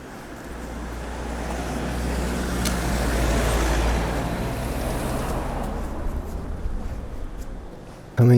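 Steady road traffic drones past, cars and heavier vehicles blending into a continuous wash of tyre and engine noise that swells mid-way and holds, with wind adding rumble, near a built-up area of houses and roads.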